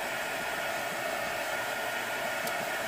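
A hair dryer blows continuously over freshly painted nail art, a steady loud whooshing airflow that runs unbroken throughout with no speech.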